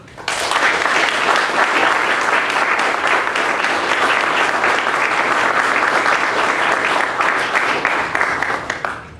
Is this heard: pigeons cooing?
no